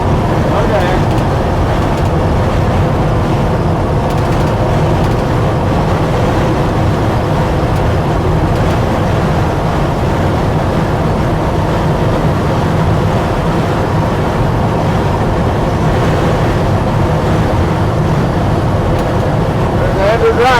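Wind rushes and the road hums steadily inside a 1956 Chevrolet 3100 Cameo pickup cruising around 65 mph. The broadband roar holds constant throughout, with someone talking over it.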